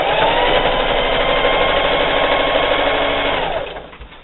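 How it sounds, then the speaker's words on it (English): Sewing machine stitching a seam on a spring table topper, running steadily and loudly for nearly four seconds before slowing and stopping near the end. "So I'm just going to keep sewing."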